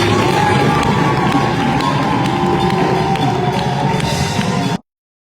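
A church congregation cheers and applauds during a Sunday service, a loud, dense crowd roar with clapping that holds steady before cutting off abruptly.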